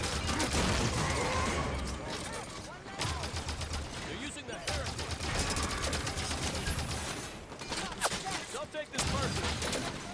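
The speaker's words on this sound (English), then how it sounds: "But the suppressor is pretty effective at killing all these Promethean enemies." Suppressed gunfire in Halo 5: Guardians during a fight against Promethean enemies, with dense, rapid bursts of shots over constant game noise that drop out briefly at a few points.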